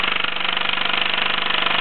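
A 1948 Mamod SE1 toy steam engine drives small cast iron workshop tools through a line shaft, chuffing in a fast, steady, even rhythm at moderate level with a faint hiss.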